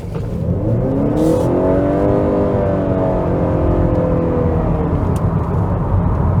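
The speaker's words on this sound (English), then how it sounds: "it does have quite a nice acceleration for a hybrid" A 2022 Honda Accord Hybrid Touring's engine revs up steadily with a rising whine, continuous and fairly loud over road noise, no talking.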